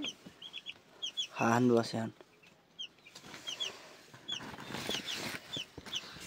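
Chickens and small chicks cluck and peep in short, scattered bursts throughout, fairly near, with a brief human voice in the middle.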